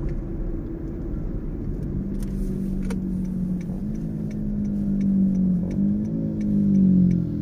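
A motorbike revs in the distance at night, its engine note rising and falling repeatedly over a steady low rumble, with faint ticking in the background.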